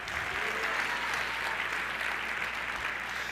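A church congregation claps in praise, dense steady applause filling the room from start to finish, loud and close, with faint voices mixed under it.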